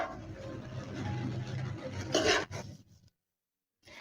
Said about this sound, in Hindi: हल्के हाथों के साथ चावलों को मिक्स करना है